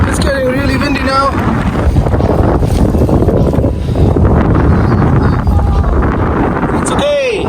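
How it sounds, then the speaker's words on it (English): Strong, steady wind roars and buffets against the microphone on an exposed mountain summit hike in New Zealand's Coromandel, loud and continuous throughout. "It's getting really windy now."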